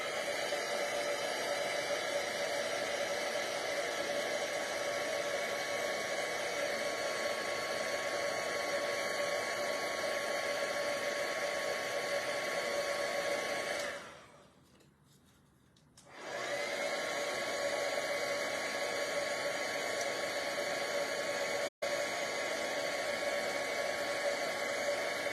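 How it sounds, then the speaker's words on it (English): A crafting heat tool melts embossing powder on a stamped card, giving a steady airy whir that runs continuously, drops out briefly partway through, then resumes at the same level. "give them a squirt with my heat tool"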